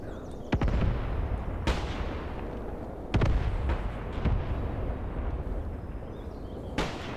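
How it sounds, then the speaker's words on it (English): Anti-tank guns firing in the war game Graviteam Tactics: several heavy booming shots spaced a second or more apart, with long rumbling tails over a dense, continuous battlefield din. "I do have a bunch of anti-tank guns here, which will also take some shots at them."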